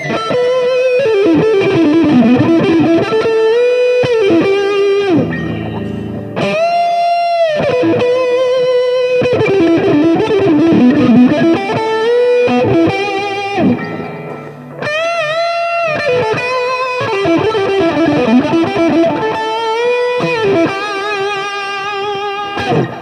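An ESP LTD MH-1000 Deluxe electric guitar played through overdrive rings out loud and gritty, with chugging palm-muted riffs alternating with sustained distorted chords and short melodic bends, played alone over about twenty seconds.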